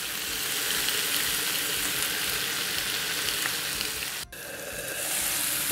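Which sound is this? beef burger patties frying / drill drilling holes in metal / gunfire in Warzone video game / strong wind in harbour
beef burger patties frying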